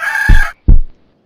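A rooster crows in two short, loud bursts with a brief gap between them, close and clear against a quiet background.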